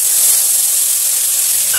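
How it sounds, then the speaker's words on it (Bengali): Fish oil with dried chillies heats in a hot pan, giving a steady, close hiss of sizzling oil that holds evenly through the short stretch. "তেল গরম হয়ে গেছে, শুকনো লঙ্কা দিয়ে দিয়েছি। আগে মাছের তেলটা ভাজবে"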